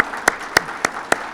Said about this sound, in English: I want to give every one of them a round of applause right now